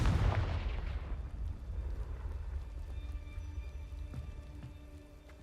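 A Confringo fire spell explodes in Hogwarts Legacy, a loud booming blast at the start that fades into a rumbling, crackling tail with scattered debris patters.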